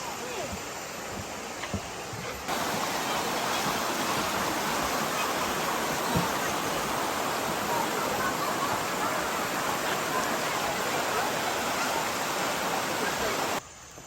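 Waterfall at Chiling, Malaysia: a dense, steady roar of falling water that cuts in abruptly and holds at an even level for about eleven seconds before dropping away.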